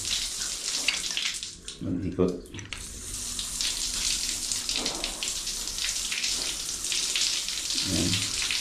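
Running water splashes steadily from a tap as a fishing reel is rinsed under it to remove salt water, with brief bursts of speech breaking in now and then.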